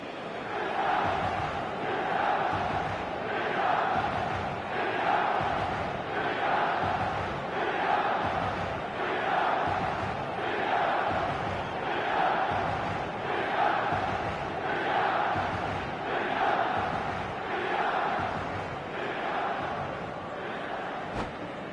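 A packed stadium crowd at the San Siro in the eFootball video game buzzes with steady, rhythmic chanting that swells and dips continuously, loud and sustained throughout.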